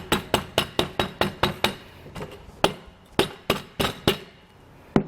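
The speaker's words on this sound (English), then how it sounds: "go in with the rubber mallet and kind of get our" Rubber mallet tapping the foot of a Rhino-Rack SG gutter-mount roof rack on a 2020 Jeep: a quick series of about a dozen sharp, evenly spaced knocks, then a few slower, scattered taps, close and clear.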